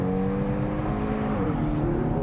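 A Kia K3 GT engine revving as it downshifts with paddle-shift rev-matching, a steady close-up drone of engine tone with a slight upward swing in pitch toward the end, heard without talk.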